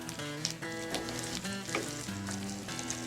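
Smoked sausage fries in a pan with a soft, continuous sizzle heard faintly. A tonal background with harmonic layers runs over it, and no one speaks.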